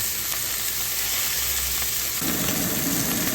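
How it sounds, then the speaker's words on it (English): Steak searing in a cast iron skillet, a loud continuous sizzle and crackle close by that grows fuller when pressed down partway through. "you just want to put some pressure to make sure we get a good sear in the bottom."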